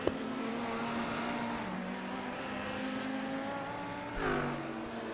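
A Ferrari GT3 race car in a racing video game sweeps past at Oran Park, its engine a steady, droning roar that holds level and then swells briefly as it goes by.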